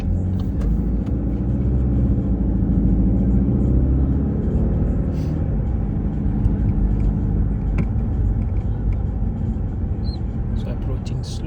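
A car drives slowly along a test route in Bolton past parked cars and oncoming traffic, its engine a steady low rumble with road noise close by throughout.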